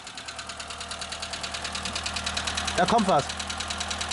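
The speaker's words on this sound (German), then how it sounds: "Motor läuft jetzt." A running Volkswagen Golf 2 engine with a cooling water problem chugs with a steady rapid rhythmic pulse, close by, while a voice speaks briefly over it.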